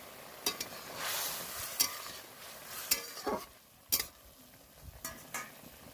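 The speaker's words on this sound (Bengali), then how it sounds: "ডুমুরের তরকারিটা ফুটে উঠেছে" Fig and small shrimp curry bubbling in a pan, giving a soft continuous simmer with a few sharp clicks and spoon taps scattered throughout; no talking.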